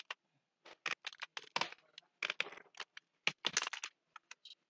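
Computer keyboard typing for data entry on a form, quick irregular bursts of keystrokes with short pauses, close and fairly quiet, no voices.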